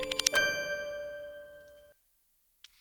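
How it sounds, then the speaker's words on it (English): A branded sound-design chime rings out with several bright struck tones up front, then a long sustained tone that rings and fades over about two seconds before falling silent, with a faint tick at the very end. "you have that chime at the very end"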